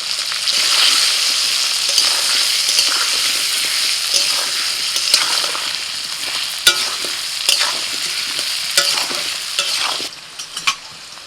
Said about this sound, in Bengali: তো তেল গরম হয়ে গেছে, দিয়ে দিচ্ছি আলু।